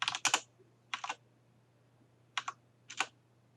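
Computer keyboard typing in short clustered bursts of crisp clicks, with pauses between the groups, heard up close in a quiet room over a faint low hum.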